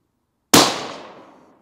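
A single sharp rifle shot from an Accuracy International AT-X chambered in 6BR, fired on a target range: one loud crack close by, trailing off into a decaying echo over about a second.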